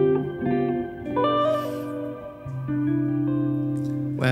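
A clean electric guitar plays a few sustained notes and chords through a modulated reverb effect, giving a shimmering, washy tail, played alone at moderate volume.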